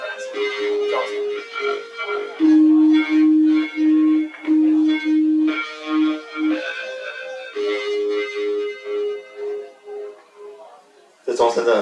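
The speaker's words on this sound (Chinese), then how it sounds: "这钟声真的很大声。" An electronic class bell at a conference venue chimes loudly, playing a slow melody of sustained, evenly spaced notes that rings through the room for several seconds.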